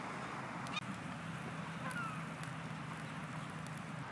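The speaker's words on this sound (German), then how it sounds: "Die Möwen haben heute auf jeden Fall ihren Glückstag." Gulls call and squabble near a kayak on the water: faint, scattered cries over a steady low wash of background noise, distant and quiet.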